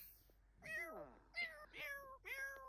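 A cat in the video game The Sims 4 meows several times in a row, clear, close and drawn out, with no talking over it.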